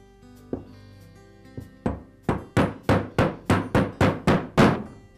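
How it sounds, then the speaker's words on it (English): A hammer taps the two halves of an Echo trimmer crankcase together during a bearing repair, a few spaced knocks that speed into a steady run of about ten sharp, loud, close blows. "I've tapped both sides of the crankcase housings close enough together"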